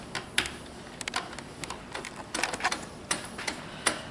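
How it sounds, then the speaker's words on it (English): Bolting down an OBR 46cc engine mount produces a string of sharp, irregular metallic clicks and taps, close and fairly quiet, with short pauses between clusters. "So you go ahead and bolt this down."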